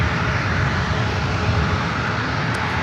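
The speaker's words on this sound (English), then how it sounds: "Japan Dreamliner." A Japan Airlines Boeing 787 Dreamliner at San Francisco airport gives a steady, loud, broadband jet roar that holds level throughout without any voices.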